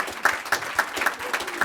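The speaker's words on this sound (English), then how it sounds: "Give them a round of applause for today's event" Audience applause at a health practitioner pain management standards launch event, a short burst of rhythmic clapping with a few distinct, fairly close claps repeating at a steady pace.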